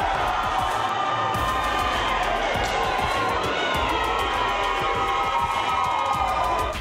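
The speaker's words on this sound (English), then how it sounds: "right now the crowd in New York is extremely intense" Intense crowd cheering and shouting at a New York handball league game, loud and continuous with whoops, sharp ball impacts and scattered voices throughout.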